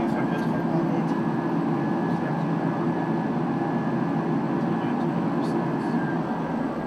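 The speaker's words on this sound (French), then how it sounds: "C'est le moment de mettre les gaz." Airliner engines spool up for takeoff from a runway on an artificial island at Hong Kong, a steady loud roar of jet noise with a broad rumble held throughout, and a voice speaks over it.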